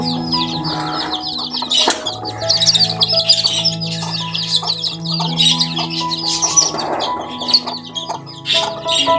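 Chickens in a small backyard coop: close, loud clucking and chirping calls in overlapping bursts, with sustained tonal calls and a sharp knock or two, no talking.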